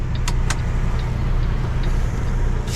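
Heavy loaded truck with an automatic transmission, engine droning steadily at low pitch after a downshift out of third gear while climbing a small incline, with faint clicks and ticks over the continuous rumble.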